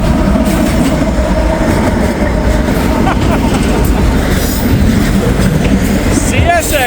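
A CSX locomotive-hauled train rolls past trackside, its loud, steady rumble of wheels and cars filling the whole stretch, with faint clacking and a brief squeal near the end.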